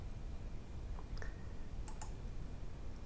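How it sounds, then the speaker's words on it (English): A computer mouse clicks on an export button. A few faint, quick clicks sound close together over steady background hiss. "so I click export"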